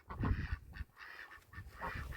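Several ducks on a hobby farm quack in a loose series of nasal honking calls, close and fairly loud, with short pauses between bursts.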